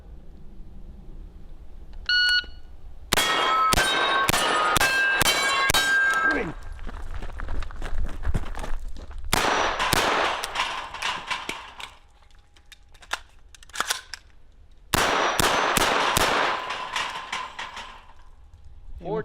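Rapid bursts of gunfire from an Inter Ordnance M215 9mm KM-7 AR-style pistol fitted with a Sig Sauer Romeo 5 sight, sharp close cracks in three strings separated by pauses, a shot timer beep before the first string.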